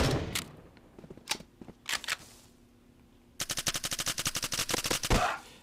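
Gunfire in the shooter game Bullet Force: a few separate loud shots at first, then a fast, sharp automatic burst of evenly spaced rounds toward the end, all close and punchy.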